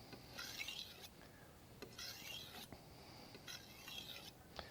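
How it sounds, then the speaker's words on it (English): Kitchen knife drawn across a whetstone during sharpening: faint, rhythmic rasping strokes, about five or six of them, each a soft gritty scrape, with no voices. "then you come to the whetstone, and like I said, we're just going to hold it at that angle and slide it forward and across"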